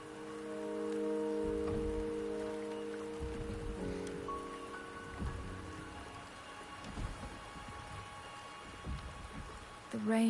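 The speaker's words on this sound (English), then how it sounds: "The rain is subsiding, and the sky will soon clear." Steady rain falls in the Wuthering Waves video game world, a continuous wash with low rumbling beneath and a tonal hum early on, ending in a louder burst.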